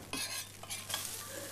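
Chopped onions drop into a hot pan and are stirred, giving a brief burst of sizzling and scraping that settles into a steady low fry, close and fairly quiet, with no talking.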